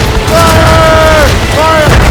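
Enemy ship cannons booming in a naval battle in Assassin's Creed Rogue, a loud, dense low rumble of gunfire with wavering tonal shouts or whistles riding over it, nonstop for about two seconds.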